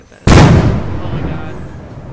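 A single sharp, loud explosion bursts out in Michoacán, Mexico, then rumbles and decays slowly over the next two seconds.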